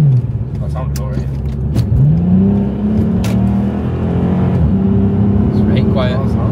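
A VW Passat 3.2 with a custom quiet exhaust and an induction kit hums steadily up close, its engine note swelling and dipping through gentle revs, with a few faint clicks over the drone.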